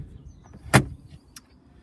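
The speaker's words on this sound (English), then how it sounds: "Electric window switches as well." Electric window of a Citroen C3 1.4 SX hatchback, a single short motor whir inside the car with a sharp click at its peak and a faint second click after, quiet otherwise.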